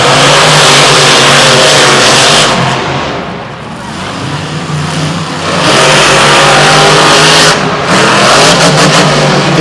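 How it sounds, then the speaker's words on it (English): Monster trucks racing at a Monster Jam event in Tampa in 2016, their engines roaring loud and steady throughout, rising and falling as they accelerate around the turns, with no voice over them. "Damon Bradshaw with the lead after the first jump, entering the second turn"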